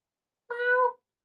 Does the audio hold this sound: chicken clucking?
no